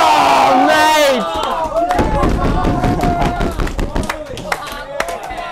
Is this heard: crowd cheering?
yes